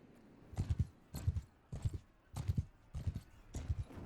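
Horse hooves clip-clop in the Mount & Blade II Bannerlord video game, a steady walking rhythm of about six close, moderately loud hoofbeat clusters with no talking.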